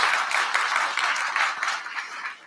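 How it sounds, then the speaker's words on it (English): Audience applause for Dr. Ignacio Marino at an event with the mayor: a steady, dense wash of clapping that carries through the whole stretch at moderate level with slight swells, and no voices over it. "I want to give Ignacio a round of applause."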